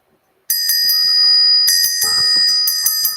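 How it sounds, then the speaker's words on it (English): A small hand bell rung in short repeated bursts, bright and clear with a sustained metallic ring, close and loud, with no talking. "I'm going to take a minute to ring the bell for the children."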